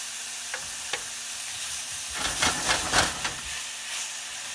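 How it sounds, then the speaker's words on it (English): Potatoes and sausage breakfast hash sizzle in a pan with a steady hiss and a louder crackling swell in the middle, heard up close with no talking. "And now that we know what I like to call the sizzle factor, we know everything is moving along just nice."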